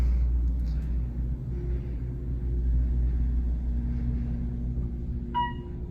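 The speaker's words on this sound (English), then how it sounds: "Yeah, I literally just heard the hydraulic motor." Otis LVM hydraulic service elevator running, a low steady motor rumble and hum filling the car throughout, with a short electronic chime near the end.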